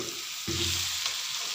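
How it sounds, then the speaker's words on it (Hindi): Onion fried lightly with masala and turmeric for palak paneer gives a steady close sizzle that swells suddenly midway with a low hum underneath. "इसको हल्का सा हम भून लेंगे और इसमें हम डालते हैं मसाला 2 चम्मच, हल्दी पाउडर 1/2 चम्मच"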